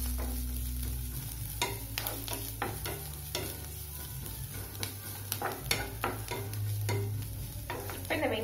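Onion and garlic sautéing for walnut tomato chutney: a steady sizzle from the pan with repeated sharp scraping strokes of a spoon stirring at an uneven rhythm, close and fairly loud throughout.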